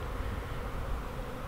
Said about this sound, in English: The bees are swarming.